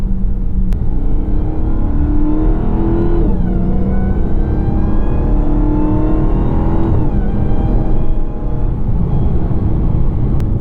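A 2021 Dodge Charger SRT Hellcat Redeye engine roars loudly and continuously as the car accelerates through gear changes, its pitch climbing, dropping at each shift and climbing again, heard from inside the car.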